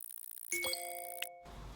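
A bright notification chime sounds in the business simulation game Big Ambitions, a layered ding with ringing tones that sustain for about a second before cutting off to background hiss.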